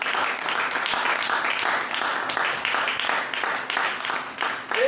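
A congregation at a Bible seminar applauds and cheers the Lord, dense sustained clapping mixed with raised voices filling the room at full volume throughout.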